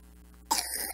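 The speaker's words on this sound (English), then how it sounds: "that's a bad cough" A single harsh cough bursts out after a quiet moment, loud and close, followed by a rough throat-clearing rasp that trails off.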